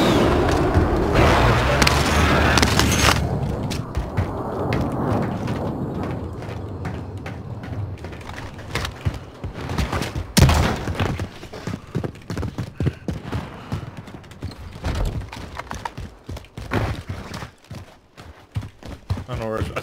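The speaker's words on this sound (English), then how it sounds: "Someone else is shooting me." Gunfire in the Warzone battle royale game: sharp repeated shots and bursts, some loud and close, others scattered, with a booming impact early on, under steady talk between players.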